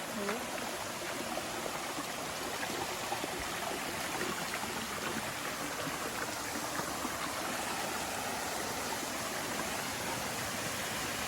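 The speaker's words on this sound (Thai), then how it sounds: "เราจะไปที่ ต้นน้ำตกนะคะ" Steady rushing water from a nearby stream or waterfall, a continuous broadband roar with no voices, unchanging throughout.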